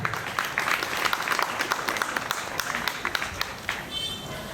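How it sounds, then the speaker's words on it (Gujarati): Audience applause at a welcome ceremony in a primary school, Tarsamiya, Bhavnagar: steady dense clapping from a crowd lasting several seconds, with voices mixed in underneath. "આપ સૌની તાળીઓની અપેક્ષા સાથે"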